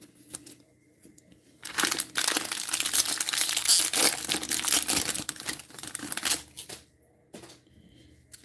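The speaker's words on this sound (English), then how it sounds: "Let's get this purple foil sleeved up." A purple foil Topps trading card slides into a plastic sleeve with close crinkling, rustling plastic lasting several seconds, set between quieter handling.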